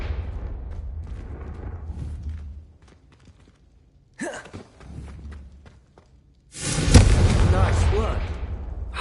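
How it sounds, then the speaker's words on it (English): Confringo spell cast at candelabras in Hogwarts Legacy: a sharp magical blast near four seconds, then a louder, sustained fiery burst from about six and a half seconds, with voices and breathing around it. "Confringo! Have a go at those candelabras."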